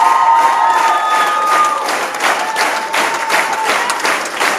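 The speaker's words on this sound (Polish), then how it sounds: "Gromkie brawa już dawno tak nie rozbrzmiewały w Cieszyńskim Teatrze." A theatre audience in Cieszyn applauds after a concert, steady dense clapping from a large crowd heard close and loud throughout, with no voices over it.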